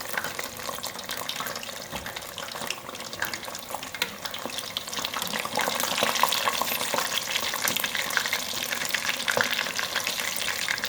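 Gram flour battered fish fries in hot oil over a medium flame, a dense, close, steady sizzle and crackle that grows slightly louder midway, with no voices.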